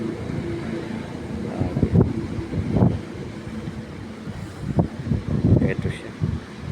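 Strong gusty wind roars through trees near a rooftop during stormy weather, a loud, rough rushing with buffeting bursts against the microphone, while someone talks over it.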